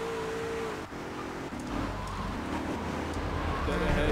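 A car drives in Grand Theft Auto 3 up onto the roof of a parking garage, a steady engine hum with a rising rev, moderately loud and continuous.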